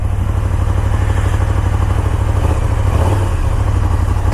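A KTM 1290 Super Duke R motorcycle engine runs close and loud, a deep, rhythmic idle pulse with a slight rise in revs partway through, no voices over it.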